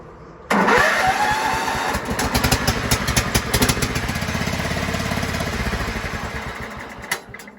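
A vehicle engine with a badly fouled carburetor cranks and catches, then runs loud and close with an uneven, sputtering idle that pulses irregularly before dying away near the end.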